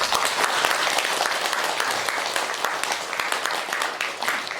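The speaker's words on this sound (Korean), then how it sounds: "우리 존경의 염을 담아서 박수 한번 더 칩시다." Audience at a Buddhist dharma assembly bursts into sustained applause, dense clapping from many hands filling the hall evenly, with faint voices mixed in.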